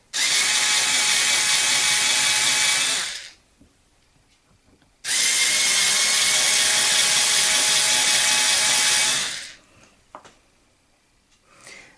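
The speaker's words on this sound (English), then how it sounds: "I'm actually going to use the drill bit that we had, just to get my holes started." Power drill with a small bit boring starter holes in wood for the legs of wooden dolls; two sustained, loud whirring bursts of about three and four seconds, separated by a short pause, with quiet handling noise afterward.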